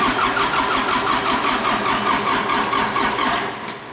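A John Deere 450G dozer's 4045 diesel engine cranks steadily at about half throttle, a loud, continuous churning drone that runs the whole time and fades slightly at the end, with no talking.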